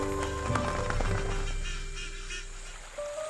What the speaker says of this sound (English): a flock of another threatened species, the Philippine duck, the only endemic duck species in the country